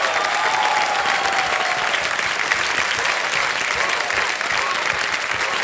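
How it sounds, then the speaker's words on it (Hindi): Dense, sustained applause from a large studio audience at a televised quiz show, steady and loud throughout with no pauses. "तालियां बज जाए इनके लिए"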